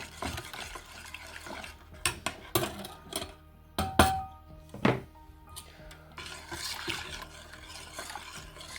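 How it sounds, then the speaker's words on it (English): Honey syrup mixture stirred in a pot, a spoon scraping and knocking against the metal in irregular bursts, close and fairly loud with no talking. "Mix it all in until it's melted"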